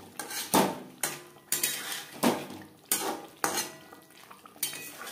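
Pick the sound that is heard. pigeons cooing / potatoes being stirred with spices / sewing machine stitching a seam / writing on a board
potatoes being stirred with spices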